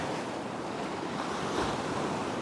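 Powerful ocean waves breaking on a beach, a continuous roaring wash of surf with a slight swell as a wave crashes near the middle, mixed with wind buffeting the microphone and no talk.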